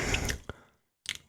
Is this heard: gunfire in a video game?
no